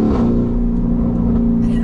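A Mansory Venatus Lamborghini Urus revs hard on a gear change, a loud, close engine note that holds steady and rises briefly as it pulls through the shift.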